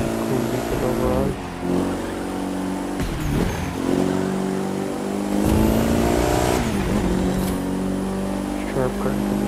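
A fast car in The Crew 2 racing game revs and accelerates hard with a continuous loud engine roar, and gear shifts break the drone into rising sweeps.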